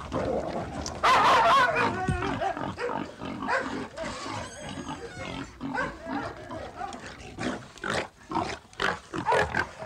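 Several dogs barking and yelping at once in a rural mountain setting, a busy overlapping chorus of near, loud barks and whines that continues throughout with little pause.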